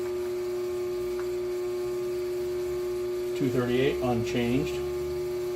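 A rotary phase converter runs with a steady electrical hum and strong tonal drone, continuous throughout, while someone speaks briefly over it near the end.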